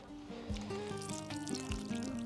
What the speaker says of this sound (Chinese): 然后呢就浇一遍透水就可以了